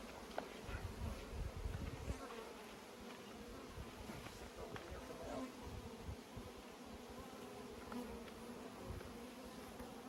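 Honeybees buzz steadily from an opened large beehive, a dense, close, continuous drone that holds at an even level throughout with no talking.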